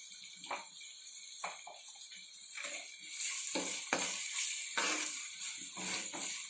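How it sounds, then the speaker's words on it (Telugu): Ginger garlic paste sizzling in a pan as it is stirred, with a steady crackling fry broken by repeated scraping strokes of a spoon against the metal, close and clear with no voices. "ఇది బాగా మగ్గాలండి, అల్లం ఎల్లిపాయ పేస్ట్ బాగా మగ్గితేనే పచ్చివాసన అనేది రాకుండా ఉంటుంది"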